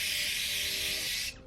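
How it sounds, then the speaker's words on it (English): A single sustained spray of aerosol hairspray hisses loudly and close for over a second, then cuts off abruptly, leaving quiet. "now I'm gonna get some hairspray"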